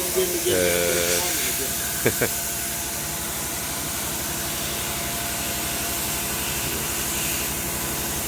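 A nitrogen tire inflation machine at a tyre shop starts up and gives a steady, broad hiss that runs on evenly after a few brief clanks near the start.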